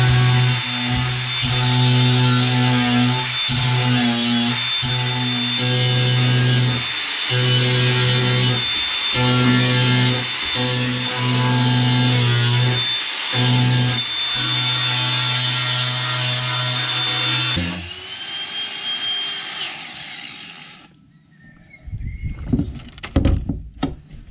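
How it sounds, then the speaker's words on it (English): Sanding the painted hull of a trailer sailer boat by hand, a loud, close rasping scrub in long rhythmic strokes with brief pauses, ending abruptly before a few scattered knocks. "so what I might do is just sand that and redo that"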